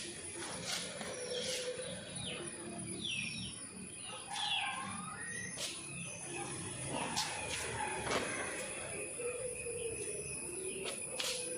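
Chickens and a rooster around a home yard in the evening, with repeated crows and clucks rising over a steady background of chirping birds and rustling activity throughout.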